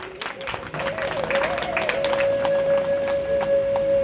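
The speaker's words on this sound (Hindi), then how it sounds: "उनके लिए तालियां जोरदार, बिना कंजूसी, तालियां में कंजूसी।" An audience claps steadily through a Hindu religious katha discourse, a continuous patter of hands with a sustained tonal note ringing underneath.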